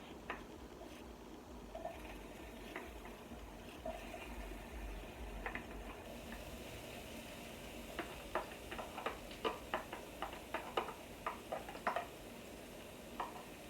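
Chopped leek frying in olive oil in a heated pan, a quiet continuous sizzle with a run of light crackles and pops building in the second half, close and alone without talk.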